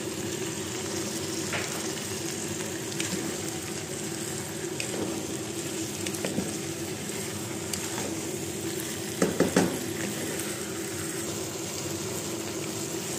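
Chopped tomatoes go into a hot frying pan for an Arabian chicken marag, giving a steady, moderately quiet sizzle and hiss with a few brief clinks near the end.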